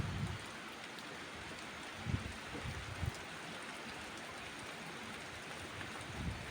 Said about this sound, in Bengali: দেখো কি জোর বৃষ্টি শুরু হয়েছে প্রচণ্ড বৃষ্টি হচ্ছে